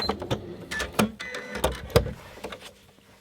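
Janome Atelier 6 sewing machine stitching and stopping to tie an automatic knot: a series of close, sharp mechanical clicks and whirring bursts in an uneven rhythm, fading toward the end.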